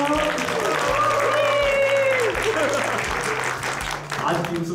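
Audience applause at an awards ceremony welcoming a presenter to the stage, a steady wash of clapping that fills the whole stretch, with a voice talking over it and sustained tonal sounds underneath.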